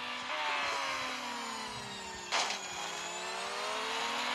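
An SR-10 race car engine in the Real Racing 3 video game, a smooth high whine that sounds almost electric, holding a steady pitch with a brief burst of extra noise midway.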